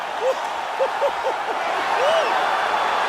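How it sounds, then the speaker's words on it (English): An arena crowd roars in EA Sports UFC 4 after a knockout ends the fight, a loud, sustained wash of cheering with rising whistles and shouts, under light commentary. "Yeah, man, crowd loving it."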